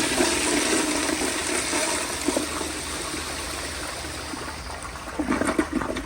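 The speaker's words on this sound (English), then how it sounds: "Here is a flush with the pressure turned all the way up." A 1974 Crane Santon toilet flushes at full water pressure, a close, strong rush of water that holds steadily and then gurgles and sputters near the end.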